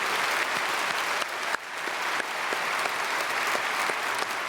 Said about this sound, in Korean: 우리 환영의 박수, 축복의 박수 보내드리겠습니다.